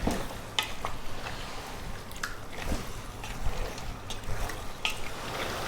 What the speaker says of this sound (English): above medium heat, we're going to go for about 6 minutes stirring fairly often.